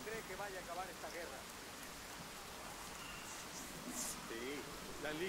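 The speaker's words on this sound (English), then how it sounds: "It seems like it's always raining every time I play this mission." Steady rain falls during a mission of the video game Ghost Recon Wildlands, a dense, even hiss of drops that runs throughout at low level, while someone talks over it.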